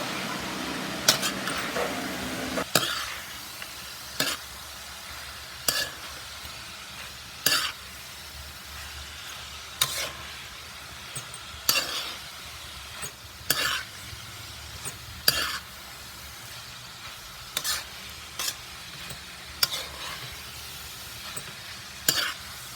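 Cabbage sautéing in a pan keeps up a soft continuous sizzle, broken roughly every two seconds by a spatula scraping and knocking against the pan as it is stirred, with no one speaking.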